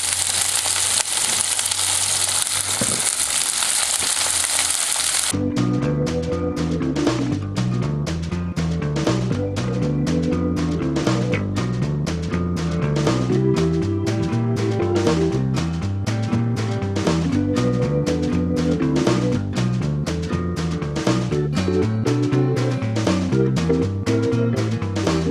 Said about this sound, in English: So we'll just cook these enough to sear them.